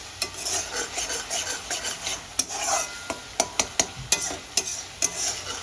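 Spice masala paste of ground coriander, cumin and Kashmiri red chilli being stirred and sautéed in a pan, with rhythmic spoon scrapes and clinks over a low sizzle, close and clear, no speech.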